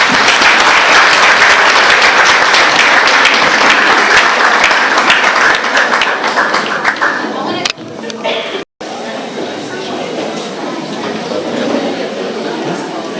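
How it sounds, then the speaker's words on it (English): Loud applause from a church congregation for a choir member and graduate's mother who has sung, a dense steady clatter of many hands that thins and drops out briefly before resuming. "Please give us a round of applause"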